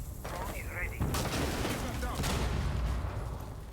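Gunfire shot through a wall in Rainbow Six Siege, a steady stream of rapid, muffled shots under a commentator talking.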